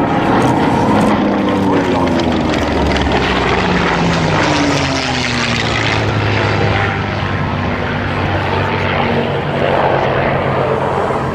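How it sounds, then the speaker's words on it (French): A Focke-Wulf FW-190A-8 fighter with registration F-AZZJ flies at the La Ferté-Alais airshow, its loud piston engine droning past with falling pitch sweeps and crowd noise beneath. "Le Focke-Wulf 190 était un avion"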